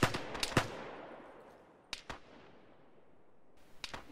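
Friendly soldiers fire rifles behind the squad in an Arma battle: several sharp cracks come in a quick cluster at the start, then two close shots and another pair near the end, each ringing out over a quiet gap.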